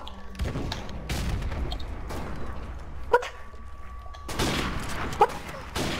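Sharp M40 sniper rifle shots with an ACOG scope in a multiplayer video game, a handful of separate reports spaced over a few seconds, moderately loud amid quiet game ambience.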